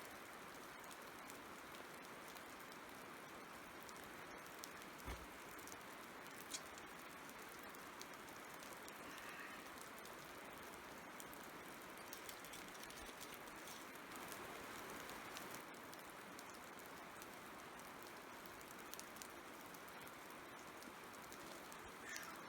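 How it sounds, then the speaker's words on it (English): Steady rain drips and patters outdoors over a constant soft wash, with a few sharper drops landing close by and no voices. "It's dripping rain."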